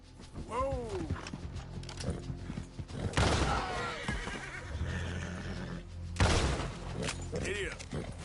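A horse neighs repeatedly in Red Dead Redemption 2, with a clear whinny near the start and louder bursts later, mixed with hoof clip-clops, creaks and a rider's voice.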